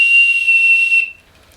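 A safety alarm whistle of the kind carried by Japanese elementary school children gives one loud, piercing, steady tone for about a second, then cuts off into quiet.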